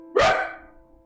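A single loud, close dog bark, sharp at onset and then trailing off, with no talk over it.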